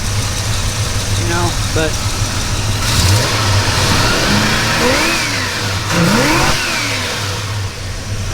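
A 1973 Plymouth Roadrunner V8 idles steadily, then revs up twice in rising, falling sweeps before settling back, heard close with a person talking briefly over it.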